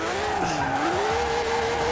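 A Super Van drifts in Forza Horizon 4, its tires squealing in a continuous, loud, wavering whine over steady engine roar throughout.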